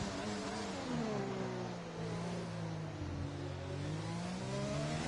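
Formula 4 race car engine in a racing video game, heard on a qualifying lap in Italy: a steady droning whine with rising and falling revs through gear changes, close and continuous, with no talk.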